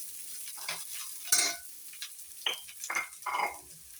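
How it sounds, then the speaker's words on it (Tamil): Grated coconut is sautéed and stirred in a pan. Irregular scraping and stirring strokes with light metallic clinks sit over a faint background sizzle, close and moderately loud. "தேங்காயை போட்டு நல்லா வதக்கிக்கணும்."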